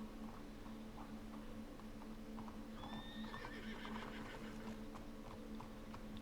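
Horse whinnying and clip-clopping hooves in Red Dead Redemption 2, with a steady low rumble underneath; a rising neigh stands out near the middle, and the hoofbeats continue through the rest.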